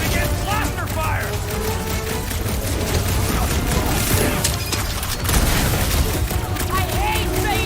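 Continuous dense blaster fire and booming impacts from a sci-fi shootout in the Guardians of the Galaxy video game, set around a ship's reactor, layered with steady game noise and character talk throughout.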